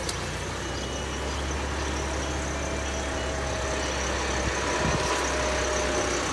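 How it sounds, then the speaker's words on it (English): A tractor passes nearby, heard as a steady, low mechanical engine rumble that holds at an even, fairly strong level for several seconds without voices. "There's a tractor going by."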